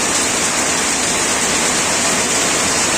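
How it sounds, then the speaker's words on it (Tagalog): Heavy, sudden rain pours down steadily in a dense, loud hiss that fills the whole clip without a break, with no voices over it. "Lakas ang ulan."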